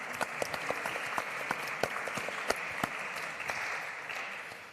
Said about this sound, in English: Please, a round of applause for the three of them